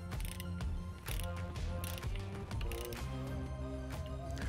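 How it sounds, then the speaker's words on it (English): A hand wrench ratchets a jam nut tight around a collar on a steel pipe fence brace bolt, giving rapid repeated metallic clicks and clanks close by, with no voices. "Tighten that jam nut around the collar."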